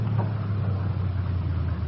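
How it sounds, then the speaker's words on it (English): An approaching car in a radio drama sound effect, a steady low engine hum rolling up the road, with a faint wash of rain and wind behind it and no speech. "The car's coming up the road toward us,"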